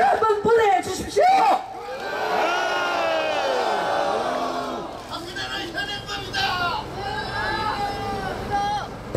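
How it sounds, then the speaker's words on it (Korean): A large crowd at an outdoor political rally in Korea roars out a long, sustained jeer of booing and shouting, loud and near, after a speaker amplified over a PA. "큰 함성으로 야유 한번 보내주십시오"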